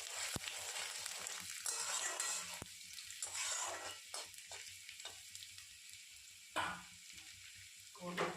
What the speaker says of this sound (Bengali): একটু নাড়াচাড়া করে নেব, ভালো করে কষিয়ে নেব।